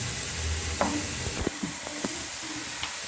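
Prawn biryani masala cooks in a pan as it is stirred, giving a soft, continuous sizzle with a few quiet scraping knocks from the spoon, heard close and low with no voices.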